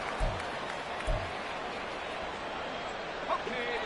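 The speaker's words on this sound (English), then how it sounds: "This crowd turning up the decibel level." A stadium crowd roars steadily in an American football video game, a continuous loud wash of cheering with a few soft thumps, and a commentator's voice running over it.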